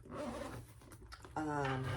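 A zipper pulled along a sewn fabric backpack gives a brief, close ripping zip that follows softer rustling, with someone talking nearby.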